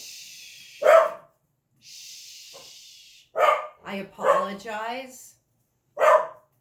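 Dogs bark in short separate bursts at a moderate distance, a few yips breaking through between a woman's quiet hushing and apologetic speech.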